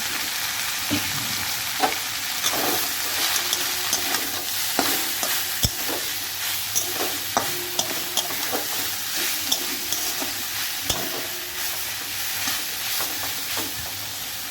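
Boiled red amaranth greens stir-fry in hot oil tempered with spices, no onion or garlic. A steady close sizzle carries throughout, broken by frequent scraping stirs of a spatula against the pan.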